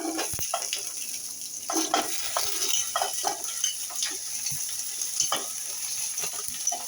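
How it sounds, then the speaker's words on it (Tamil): Onion, tomato, garlic and curry leaves sautéing together in a pan for an okra stir-fry, giving a steady sizzle broken by repeated stirring scrapes and clinks, close and moderately loud, with no talking. "இப்போ எல்லாத்தையும் ஒன்றா வதக்குங்க"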